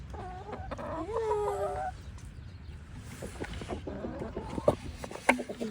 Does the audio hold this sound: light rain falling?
no